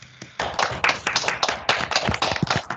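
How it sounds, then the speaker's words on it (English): Scattered applause from an online seminar audience after a talk, several people clapping unevenly over their own microphones, a brief tap first and then a dense burst of overlapping claps that keeps going until the end. "let's unmute ourselves and applaud for Only Wright's interesting talk"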